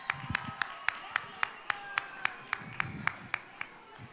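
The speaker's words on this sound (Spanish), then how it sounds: "Un cálido aplauso, por favor, para nuestros niños del Kinder C." A school audience at a Chilean national heritage day celebration claps for kindergarten children: sharp, evenly spaced rhythmic claps, about fifteen in a row, fairly faint and slightly distant, with a low murmur of voices beneath.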